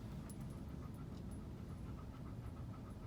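A dog pants steadily and rapidly inside a quiet Tesla Model Y, the breathing close and continuous over a low hum of cabin air blowing.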